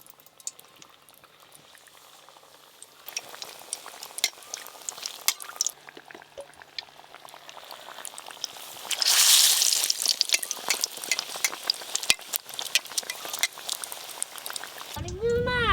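Potato chops fry in a wok of bubbling oil during village-style cooking, a dense crackling boil that swells into a loud surge midway and keeps popping, with voices talking at times.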